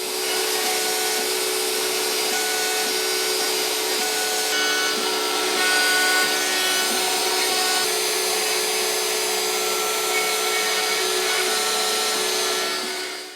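A CNC router cutting a wooden plug holder in a workshop, a loud steady high-pitched whine with grinding noise that holds constant throughout, with no one talking.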